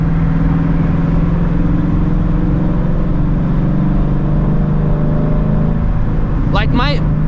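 A 2016 Ford Shelby GT350 under way, giving a steady, loud engine drone with a low humming tone. A brief sharp chirp breaks in near the end.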